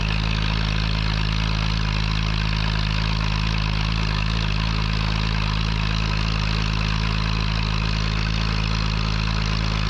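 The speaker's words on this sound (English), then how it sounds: "The P6 is climbing away, you hear the crack off the exhaust." A loud, steady 1949 Fordson P6 Major tractor engine rumble continues without a break as it climbs a hill, deep and close, holding a constant labouring drone throughout.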